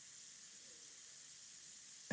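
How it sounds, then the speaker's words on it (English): Spray gun lightly misting paint onto a painting, a soft, steady airy hiss that runs evenly throughout, ending with a brief louder burst. "I'm going to just start lightly spraying it in"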